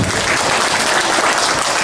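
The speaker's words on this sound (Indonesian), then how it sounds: "Tepuk tangan untuk Kang Hendri." Loud, dense applause from a gathered audience honouring Kang Hendri, a continuous crowd clapping that fills the whole moment at steady strength without a break.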